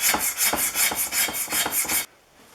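A hand scraper rasps along a Stanley No. 5 1/2 SW jack plane to remove patina, about nine quick, even, rhythmic strokes close up, ending abruptly into near silence.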